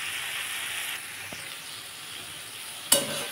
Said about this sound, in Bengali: এটা একটু কষানো হোক।